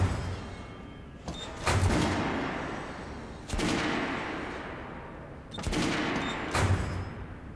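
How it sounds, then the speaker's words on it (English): Three loud, separate blasts from a revolving shotgun in the shooter game Metro: Last Light, spaced a couple of seconds apart, each a sharp crack with a booming tail and no talking over it. "That's a shotgun, a revolving shotgun."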